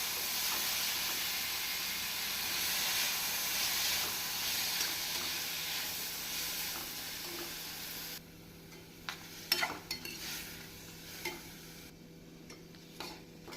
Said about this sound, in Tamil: நாம் மிதமான தீயில் தக்காளியை ஒரு மூன்று நிமிடம் முதல் ஐந்து நிமிடம் வேக வைக்க வேண்டும்